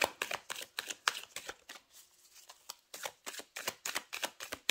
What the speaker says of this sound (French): les cartes se brassent très très bien